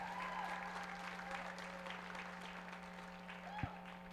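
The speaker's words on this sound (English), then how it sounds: "Ladies and gentlemen, a big round of applause for Tioga Sequoia Brewing Company, Fresno Street Eats, and Fresjazz Fest." Steady applause from an audience at a downtown Fresno event honoring Tioga Sequoia Brewing Company, Fresno Street Eats and Fresjazz Fest fills the room evenly, moderately distant, with a faint hum beneath.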